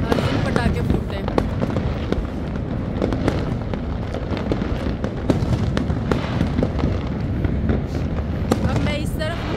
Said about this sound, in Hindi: पटाखों की आवाज़ आ रही थी